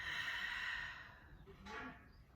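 A slow, breathy exhale pushed out through the mouth during a gentle beginner upper-body stretching session, soft and close, followed by a shorter airy breath near the end.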